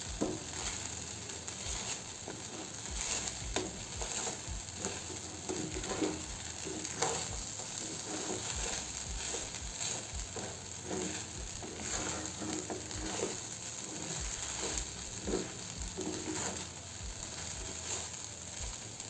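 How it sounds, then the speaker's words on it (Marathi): Sabudana khichdi is stirred in a frying pan, with a steady soft sizzle of frying throughout and repeated scraping and tapping of the spoon against the pan at an unhurried pace. "असं छान मिक्स करून घेऊ."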